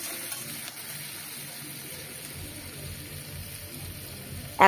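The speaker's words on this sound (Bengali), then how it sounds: "সয়া সস দিয়ে আরেকটু নেড়ে নেব।" Onion and capsicum stirred with soy sauce in a hot pan while making cabbage manchurian, giving a soft, steady sizzle and hiss that runs throughout with no voices.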